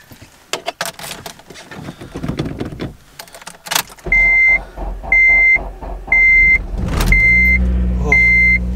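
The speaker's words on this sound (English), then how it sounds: "Oh, car almost didn't start." Keys jangle and a door clicks, then an Si car engine cranks, barely starting, and catches with a roar as a chime beeps repeatedly in an even rhythm.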